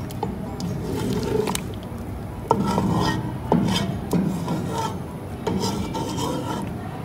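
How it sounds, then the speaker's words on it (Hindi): Mutton achar meat being stirred and mixed in a hot pan, a steady run of close, rasping scrapes and rubs with a few sharper knocks as the spoon turns the pieces. "अब इन्हें मैं मिक्स कर दूँगी और पकने के लिए थोड़ी देर छोड़ दूँगी।"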